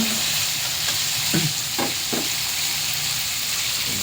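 Pork in a calamansi and pepper marinade sizzles in a pan as it is stirred, giving a constant frying hiss with a few soft scraping strokes.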